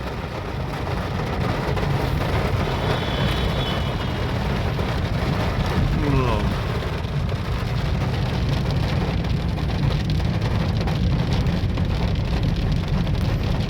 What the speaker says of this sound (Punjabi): ਮੀਂਹ ਆ ਚੁੱਕਿਆ